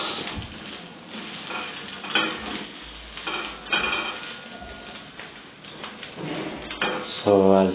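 Small dried omena (dagaa) fish fry in a pan while being stirred, giving scraping and rattling bursts over a soft sizzle, ending in a louder knock.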